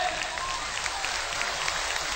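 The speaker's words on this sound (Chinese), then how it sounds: "掌声谢谢所有的演员" A live stage show's audience applauds the performers at the finale: sustained, even clapping from a large crowd throughout, with no speech.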